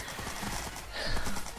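Horses gallop in a Minecraft horse race, a steady busy clatter of hoofbeats mixed with occasional whinnies, loud and continuous throughout the short stretch.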